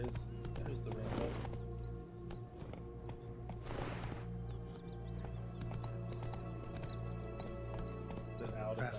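Roach, the horse in The Witcher 3 video game, gallops with a steady, rhythmic clip-clop of hooves that runs continuously under ambient game sound, with a voice talking over it.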